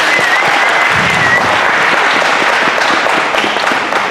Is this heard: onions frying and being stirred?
no